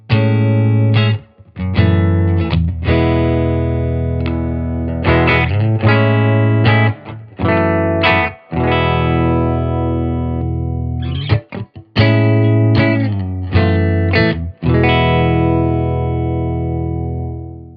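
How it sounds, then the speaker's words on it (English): A Clydesdale Warhorse electric guitar with Righteous Sound pickups plays through a Silktone amp, giving loud, gritty, overdriven chords and notes in phrases separated by short gaps, with no one talking. "I am plugged into a Silktone amp. Silktone amp, it sounds like this."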